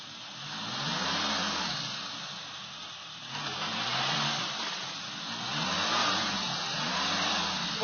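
A Suzuki off-road vehicle's engine revs and surges while driving, rising and falling in steady waves of mid-pitched roar with no talk over it.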